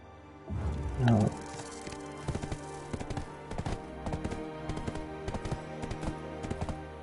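Horse hooves clip-clopping while riding in the online game Black Desert Online, an irregular run of quick hoof beats that continues steadily as a voice talks over the game sound.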